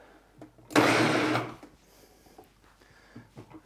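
Food processor fitted with a grating disc shredding cauliflower into rice, a loud dense whirring burst of about three-quarters of a second, then fading into quiet clatter and faint handling noises.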